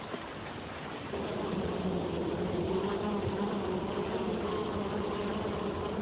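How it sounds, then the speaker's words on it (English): Native stingless bees buzzing around a hive among rocks in the bush near Doomadgee, a continuous close droning hum of many insects that swells slightly louder after the first second. "The native bee doesn't have a sting, and he looks like a little fly, a little bush fly just kicking around the place."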